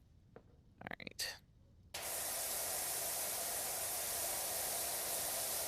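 Pressure washer from the game Powerwash Simulator 2 firing its wide spray: after a few short spoken words, a loud, steady hissing blast begins and holds unbroken to the end.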